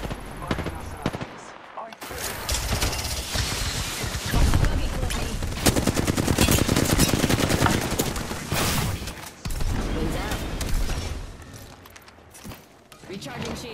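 Rapid automatic gunfire from Apex Legends rattles through most of the stretch in dense bursts, with short gaps, while a player talks over the shooting.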